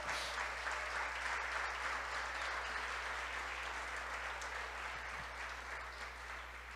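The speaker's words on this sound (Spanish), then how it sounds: "Dale un fuerte aplauso a él, amén." A church congregation at a sermon breaks into strong, sustained clapping that stays even and full for several seconds before easing slightly, over a low constant electrical hum.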